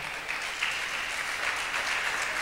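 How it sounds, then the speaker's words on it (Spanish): A crowd claps steadily and fairly loudly throughout, a dense, even wash of applause with no voices standing out. "Denle un aplauso al Señor."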